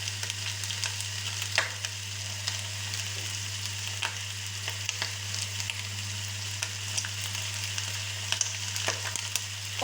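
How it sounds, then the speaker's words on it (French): Turkey pieces sizzle steadily as they brown in a frying pan, a constant close crackle with small pops and a low hum underneath, and no voices. "On va faire dorer tranquillement."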